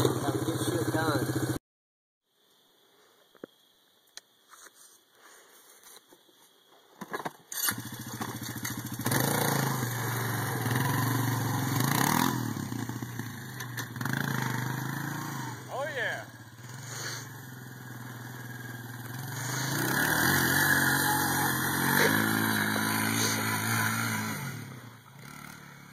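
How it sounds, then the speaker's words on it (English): Four-wheeler ATV engine during a riding lesson, a medium engine droning and revving at moderate distance after a brief silence, with people talking over it. "This is Sir Poopy Penis, riding his four-wheeler."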